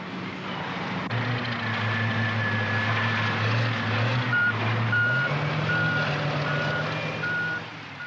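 Heavy 40- to 50-ton rock haul trucks work a limestone quarry, a repeating reversing beeper pulsing over the loud, steady diesel engine roar close by, the engine note shifting slightly midway.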